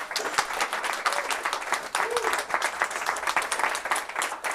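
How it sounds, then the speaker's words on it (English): An audience at a conference talk applauds at the end of a presentation: a thick, continuous wash of many hands clapping, fairly even in loudness, with a voice briefly audible over the crowd. "Keep the hand claps going, ladies and gentlemen."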